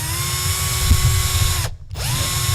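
Power drill boring into a clamped workpiece right beside the microphone, a loud, steady high whine with a brief dip where the motor slows, then spins back up.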